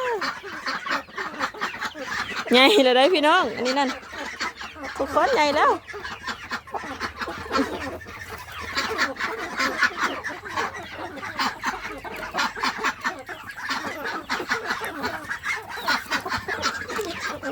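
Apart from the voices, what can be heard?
chickens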